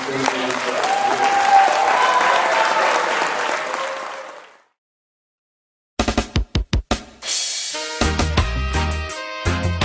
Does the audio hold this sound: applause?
yes